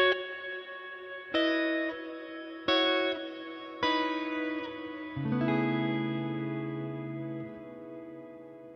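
Guitar played through a Line 6 Helix with a legacy cave reverb and Cosmos Echo: four separate clean notes or chords each ring out into a long echoing wash, then a final sustained chord fades slowly into reverberant trails.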